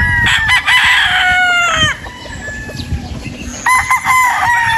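A pure Boston Roundhead rooster crows loudly and close, its harmonic call bending down at the end, followed by quieter clucking and then a second crow rising at the finish.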